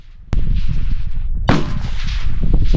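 Rifle shots ring out at a tactical biathlon range, with a sharp crack near the start and another strong report midway, each followed by sustained rumbling echo and range noise.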